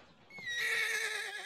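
A horse gives a clear, fairly close whinny that rises and holds for about a second, heard alone with no talk.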